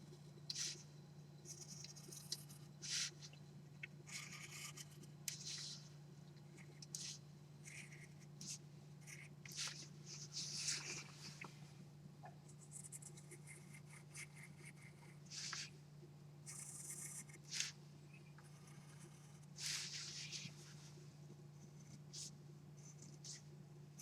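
A pencil scratches lines by hand on a technical drawing, a series of short dry strokes of varying length with quiet pauses between, close and faint over a steady low hum.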